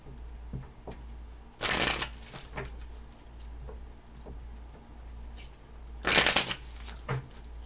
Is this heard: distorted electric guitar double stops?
no